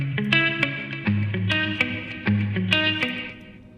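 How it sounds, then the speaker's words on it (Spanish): Electric guitar notes played through a TC System 6000 reverb with pre-delay, each plucked note followed by a rhythmic delayed repeat and a lingering reverberant tail; moderately loud, no voices. "Con esto logramos entonces un delay previo allí al efecto de reverb, que le da una sensación bastante rítmica entonces al sonido de guitarra"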